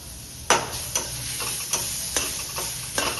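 Tomatoes sautéing in a pan for a village-style matki curry, a steady sizzle with a handful of sharp spatula scrapes and taps spaced through it, close and fairly loud.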